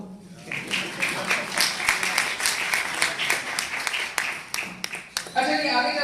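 An audience bursts into rapid, continuous clapping at a homeopathy lecture on hepatitis, a dense crowd of claps sustained for several seconds before tapering off.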